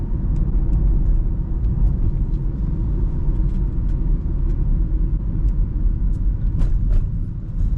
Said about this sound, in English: So now we're about to sit in an hour of traffic.